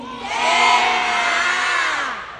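A large crowd at a live Thai series fan event erupts in loud, sustained high-pitched screaming and cheering that swells and then fades slightly over a couple of seconds.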